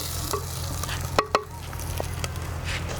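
Prawns frying lightly in a masala paste with ground chutney, a soft steady sizzle with two sharp utensil knocks against the pan partway through, no voices.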